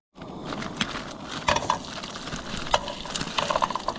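Shrimp sizzle in avocado oil in a pan at an outdoor camp cooking spot, a close, steady crackling hiss with scattered pops and faint clinks.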